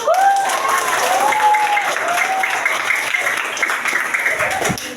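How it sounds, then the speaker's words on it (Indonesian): Students clapping their hands together at the end of a school coaching session, a sustained burst of applause with a few voices calling out over the clapping before it tapers off. "Tepuk tangan dulu."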